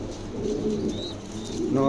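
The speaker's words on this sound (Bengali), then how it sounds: "একদম নতুন নিউ অ্যাডাল কবুতর" Pigeons, including a jet-black adult, coo in low, throaty rolls close by, layered over a soft murmur of background noise.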